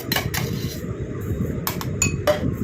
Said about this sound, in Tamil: மிக்ஸ் பண்ணிவிட்டு இதை ஒரு பவுலுக்கு நம்ம ட்ரான்ஸ்ஃபர் பண்ணிடலாம்